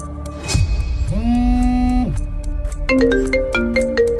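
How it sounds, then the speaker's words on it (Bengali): A phone ringtone plays a sliding electronic tone followed by a quick repeating melodic pattern, close and clear, with no talking. "এ সময় কে ফোন দিল?"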